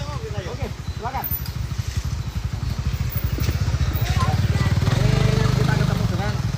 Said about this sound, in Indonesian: Jalan-jalan naik motor.